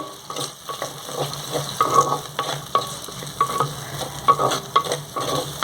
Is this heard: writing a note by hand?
no